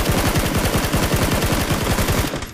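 Rapid automatic gunfire in the video game PUBG rattles in a steady, loud burst of evenly spaced shots for about two and a half seconds before cutting off.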